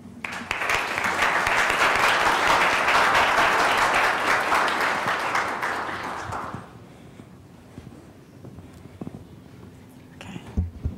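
An audience at an ecology lecture welcomes a speaker with loud, dense applause that holds steady for several seconds, then fades out into the quiet murmurs and shuffles of a room.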